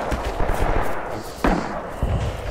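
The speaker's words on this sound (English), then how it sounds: "No, I'm using the sniper rifle." Sniper rifle shots from the Rising Storm video game ring out amid dense battlefield gunfire, with a sharp, loud crack standing out near the middle over continuous shooting.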